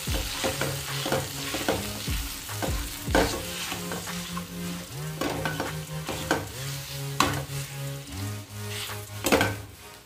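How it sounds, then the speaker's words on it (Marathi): Mashed bananas sauté in a pan with a continuous sizzle, while a spatula repeatedly scrapes and stirs the mixture in an uneven rhythm with occasional sharper knocks. "आता यामध्ये आपल्याला मॅश करून घेतलेली केळी घालून घ्यायची आहे। यात मी सगळी केळी घालून घेतलेली आहे। आता याला आपल्याला परतून घ्यायचं आहे।"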